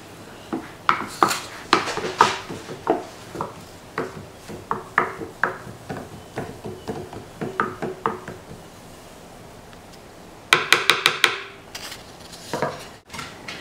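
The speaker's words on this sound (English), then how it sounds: "I'm going to take this wooden spoon, I'm going to take the bottom half of it and stir it up" A wooden spoon stirs coffee grounds in a glass French press, knocking rhythmically against the sides in a long run of close, hollow clinks, then a quick burst of faster taps near the end; nobody speaks.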